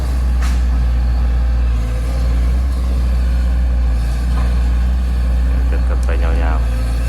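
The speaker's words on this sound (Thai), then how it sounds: "รถแมคโครเพิ่น" A Kobelco SK200-9 excavator rumbles loudly nearby, its heavy diesel engine drone steady throughout, with faint metallic clanks and brief hiss-like bursts near the end.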